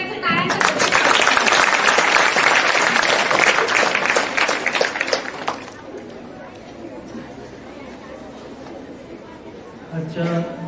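Audience at a school Teacher's Day program applauding a guest speaker, a loud burst of clapping for about five seconds that fades into quiet murmuring, with a voice starting near the end.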